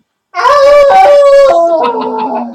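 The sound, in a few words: player imitating a creature howling, tabletop game session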